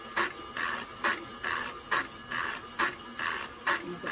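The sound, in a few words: electric mixer beating butter on low speed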